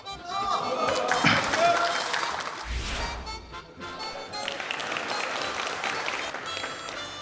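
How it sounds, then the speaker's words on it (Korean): A crowd claps loudly for several seconds in a television news studio, with voices mixed in and a dull thump partway through. "박수 치지 마세요."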